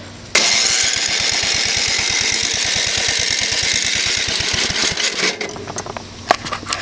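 A troublesome tractor engine, choke pulled, catches abruptly and chugs in a loud, rapid, even rhythm for several seconds before the steady beat breaks up into irregular clatter and knocks.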